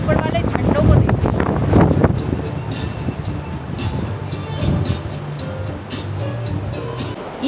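Strong mountain wind roars across the microphone at Nako village, about 11,800 ft up in Spiti, buffeting loudly and unevenly throughout while someone talks nearby.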